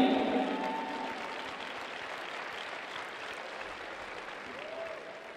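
Applause fills the arena at a junior figure skating exhibition gala in Minsk, fading gradually from a fuller start into lighter clapping. A loudspeaker voice and a short musical tone are heard near the beginning.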